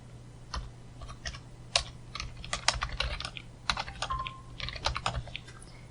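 Quick, uneven keystrokes clatter on a computer keyboard while Python code is typed, coming as bursts of crisp clicks with short pauses, close and fairly quiet over a faint low hum.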